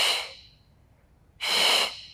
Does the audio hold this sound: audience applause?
no